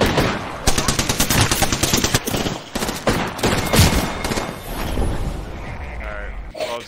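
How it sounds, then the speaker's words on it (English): Rapid automatic gunfire bursts from the video game Apex Legends, dense and loud throughout, with repeated volleys and sharp shots, ending in a quieter tail. "Where am I getting shot from?"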